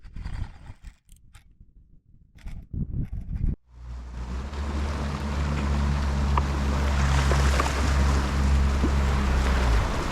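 Boat motor running on the water near an inshore reef, starting abruptly after a few knocks and settling into a loud, steady engine drone with water rushing beneath it.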